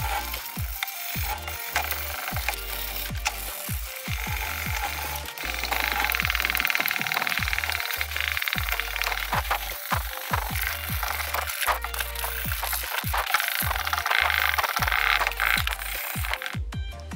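Steady, gritty scraping of sandpaper worked back and forth over a yellowed, matte plastic BMW headlight lens, continuous and close, with short rhythmic strokes throughout.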